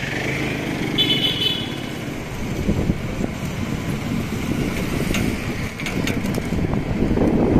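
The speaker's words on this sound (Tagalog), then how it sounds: "pakunti na lang ng pakunti yung mga sasakyan na dumadaan dito" Cars and motorcycles pass along a Chinatown city road in Davao, a continuous rumble of engines with an occasional horn toot, moderately distant and steady.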